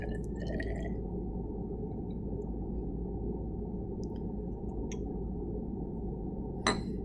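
Water pours into a glass graduated cylinder in a lab, a steady liquid trickle filling it about halfway, with a few light glassy clinks and a brief louder knock near the end.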